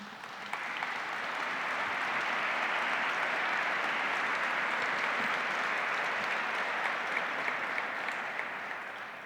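An audience at the Oklahoma Governor's Arts Awards ceremony applauds in a steady, even wash of clapping that holds at constant strength for several seconds before tapering off slightly.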